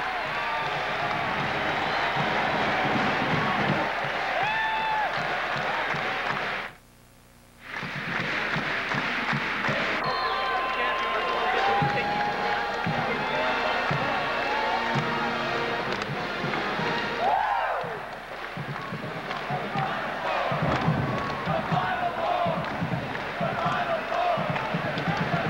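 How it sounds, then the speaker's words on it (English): Loud, sustained crowd roar filling a college basketball arena as UCLA holds a 4-point lead over Arizona, continuous with swells and a brief drop near seven seconds, mixed with broadcast talk. "Crowd roaring as the Bruins have a 4-point lead."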